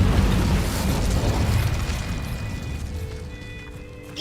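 Spell effects in the Hogwarts Legacy video game, a loud continuous blast of booming, bursting magical energy that rumbles and slowly fades, with a brief flare at the end.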